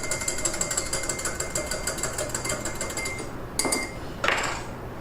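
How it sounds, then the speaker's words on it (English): A whisk beats a salad dressing in a bowl, making a quick, regular metallic clicking and scraping close by, with a couple of sharper knocks near the end and no voices. "Whisk it up."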